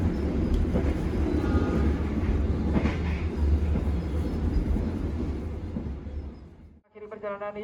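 Interior rumble of the Malabar passenger train running at night in Indonesia, a steady low roar with rhythmic rail clatter that suddenly drops away near the end before a short tonal sound, with a voice speaking over it.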